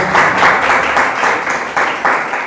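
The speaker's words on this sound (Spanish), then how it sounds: "Vamos a darle un aplauso al Rey de la vida" A congregation at a worship service applauds loudly and steadily, a dense wash of many hands clapping together with slight surges, heard close and without talk.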